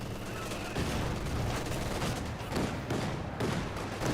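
A Vickers K light machine gun firing in Company of Heroes 2, dense rapid bursts mixed with battlefield explosions and rumble, loud and continuous with no talking.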